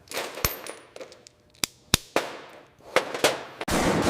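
A belt-fed M240 machine gun test-fires 7.62 mm NATO rounds in a factory, cracking out sharp, loud single and paired shots at an irregular pace with metallic clatter between them.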